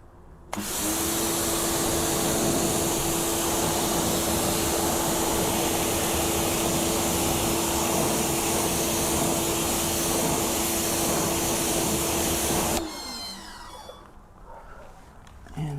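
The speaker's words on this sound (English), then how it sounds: "let's just rinse this front wheel" A loud, steady hiss of a pressure-washer jet rinsing a car's front wheel runs for about twelve seconds, then cuts off, leaving quieter spraying and dripping.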